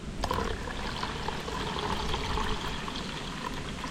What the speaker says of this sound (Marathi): आता आपल्याला ह्याच्यात पाणी ओतायचं आहे